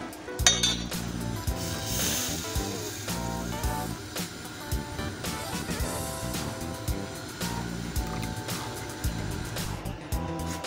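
Strawberry jelly is poured and scraped from a pan into a bowl, with repeated clinks and scrapes of metal utensils against cookware over steady background music.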